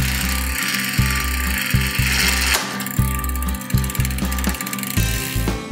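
A Campagnolo 11-speed Super Record, Record or Chorus bicycle shift lever, heard as a series of crisp ratcheting clicks at fairly regular intervals, close and clear over a steady tonal background.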